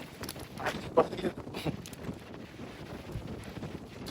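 Rough, gusty wind at a village pond buffets the microphone, producing continuous low rumbling and crackling with a few sharper bumps.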